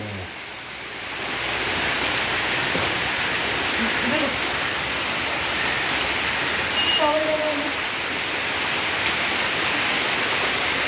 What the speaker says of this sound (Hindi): बारिश तेज हो गई है, अब हवा भी चल रही है।